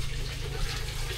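Water runs steadily from a tap in a campsite restroom at a farm resort in Tanay, Rizal, giving a continuous close splashing hiss with no break and no voices over it.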